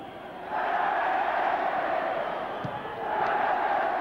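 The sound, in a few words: football stadium crowd reacting to a throw-in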